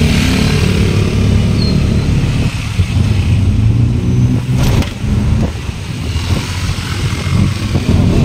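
Vehicles pass on a quiet road during a storm, a loud continuous engine and tyre roar with a couple of swells as they go by close.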